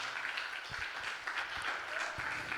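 A church congregation claps hands together in praise, a faint, steady patter of scattered claps under a roomy hum.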